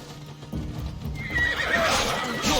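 Horses of mounted guards trot closer in Assassin's Creed Odyssey, with clip-clopping hooves and a shrill whinny that rises near the end. The sound is fairly close and no one speaks.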